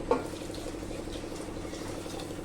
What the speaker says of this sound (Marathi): पाणी मी घालते